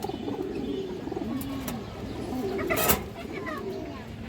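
A female pigeon coos softly in a low repeating murmur, with someone talking over it close by and a brief rustle partway through.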